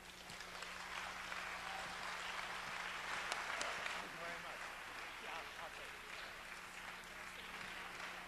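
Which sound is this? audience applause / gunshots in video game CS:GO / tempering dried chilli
audience applause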